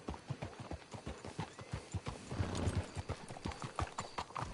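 Horse hooves clip-clop steadily in Red Dead Redemption 2, several horses plodding at a walk close by, with a brief whinny and a denser patch of trotting midway.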